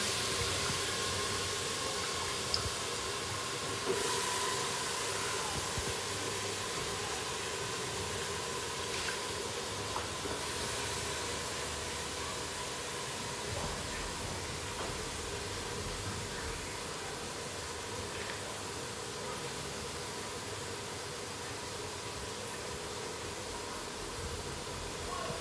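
Eggplant frying in a hot pan, a steady broadband sizzle that holds on continuously and gradually eases, with a brief clatter near the start and faint background sounds.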